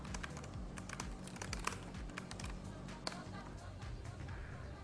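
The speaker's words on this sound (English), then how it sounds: "and now I just type away" Fast, steady clicking of keys on a PS2 computer keyboard, used to enter text into an LED message display, sounding close and fairly quiet with a bit of background hiss.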